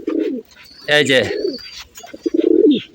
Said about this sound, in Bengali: এই যে গুডু গুডু পায়ে কিন্তু আমার কবুতরগুলো ডাকতেছে